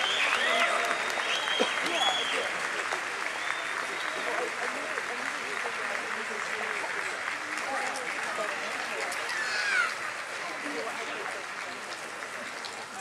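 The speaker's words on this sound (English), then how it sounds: "Please express your appreciation with applause." A graduation audience gives sustained applause, with a broad wash of many hands clapping evenly at a moderate distance, faint cheers and voices mixed in, and a slight swell near the end.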